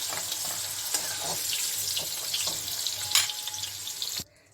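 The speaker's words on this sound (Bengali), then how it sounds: "ওই তেলে আমি দারচিনি এলাচ লবঙ্গটা ফোড়ন দিচ্ছি" Cinnamon, cardamom and cloves dropped into hot oil sizzle and crackle steadily up close, with a few sharper pops and clinks, before the sound cuts off abruptly near the end.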